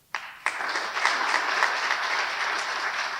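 Audience applauding at the inauguration of green study spaces at a Cotonou medical faculty: a couple of sharp opening claps, then a full, steady burst of crowd clapping that holds evenly to the end.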